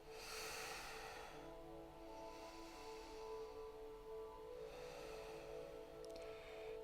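During a yoga practice, a slow, steady breath is drawn in and let out through the nose, close and soft, with a long airy rush that swells and fades.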